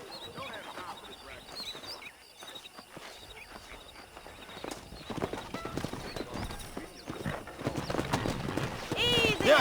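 Horse hooves clip-clop in a steady walking rhythm in the video game Red Dead Redemption, growing louder toward the end, with a whinny, ambient outdoor sounds and occasional voices.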